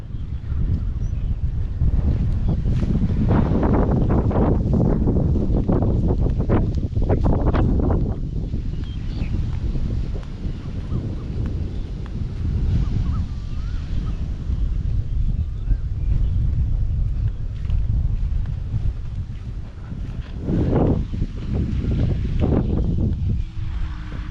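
Strong, gusty wind ahead of a summer thunderstorm buffets the microphone with a continuous rough roar, surging and easing in waves; no voices.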